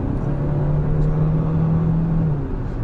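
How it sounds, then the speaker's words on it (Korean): A Hyundai Tucson 1.6 gasoline turbo accelerates at high speed toward 5000 rpm, heard from inside as a steady, loud engine drone and rumble that holds its tone before easing off near the end. "지금 5000rpm까지 지금 가져가 봤지만 고속 주행에서의 제가속 느낌 자체는 약간 답답함이 전달되고 있어요"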